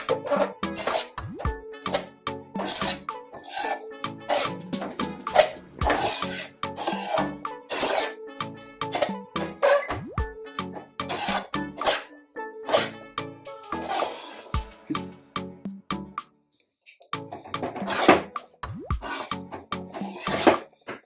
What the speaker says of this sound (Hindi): ये आटे को हमें ब्राउन होने तक फ्राई करना है।